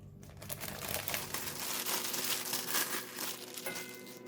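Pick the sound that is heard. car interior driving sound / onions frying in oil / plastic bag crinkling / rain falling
plastic bag crinkling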